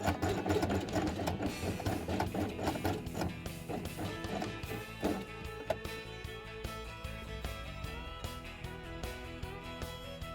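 A sewing machine stitches along the bottom edge of black felt for a horse-themed quiet book page. It runs close and alone with a steady mechanical whir and rapid needle clatter, easing slightly toward the end.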